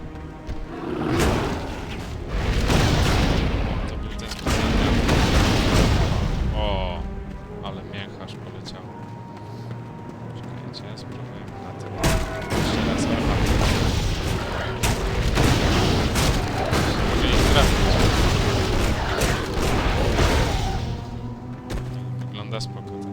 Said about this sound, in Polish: Strzelam z armaty, a teraz specjalny atak z armaty użyję.